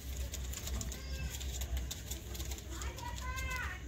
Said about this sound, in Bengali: তো দেখে নাও, এই হচ্ছে পায়রা।